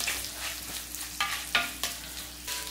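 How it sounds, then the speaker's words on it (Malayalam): Thinly sliced onions sautéing in a pan for a curry, a constant close sizzle with several sharp scrapes and clicks of a spatula being stirred through them. "ഈ സവാള ഒന്ന് ചെറുതായിട്ടൊന്ന് വഴന്നു വരട്ടെ"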